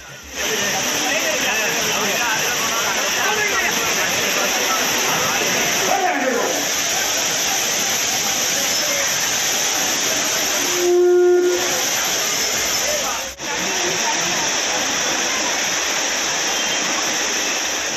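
The flooding main falls at Courtallam in Tamil Nadu roar as a dense, steady torrent of crashing water, loud and unbroken throughout with a brief faint tone partway through.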